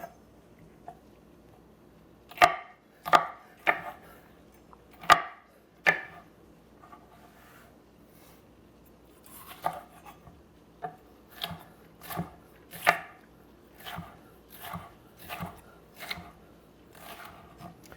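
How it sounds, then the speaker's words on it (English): A knife chops a pepper on a cutting board in two clusters of close, crisp strokes separated by a quiet pause, the later strokes coming in a quicker steady rhythm. "I'm going to cut up my pepper"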